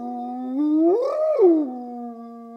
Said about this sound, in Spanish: Eso es Pachyrhocutta brevirostris, la gigantesca hiena de cara corta del Pleistoceno.